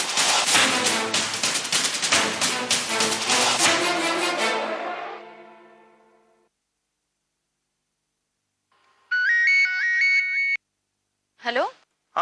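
On a Hindi TV serial, a mobile phone ringtone plays a short, bright melodic burst of repeated tones, then a brief second chirp, after a loud dramatic music passage fades into silence.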